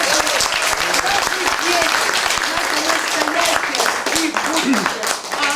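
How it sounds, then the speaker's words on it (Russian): Dense, loud applause from an audience at a Day of Family, Love and Fidelity celebration, sustained steadily throughout with a few voices mixed into the clapping. "А где аплодисменты?"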